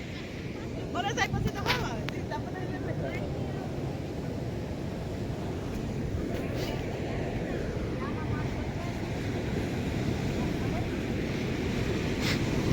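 Sea waves and surf wash in a continuous low roar with wind blowing across the microphone, while people talk over it.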